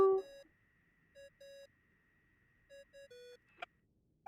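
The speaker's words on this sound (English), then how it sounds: "I really hate that ringing tone." Ringing phone tone in the Genshin Impact video game: a sparse pattern of short electronic beeps and chimes repeating in small clusters, clean and moderately loud, ending with a brief burst.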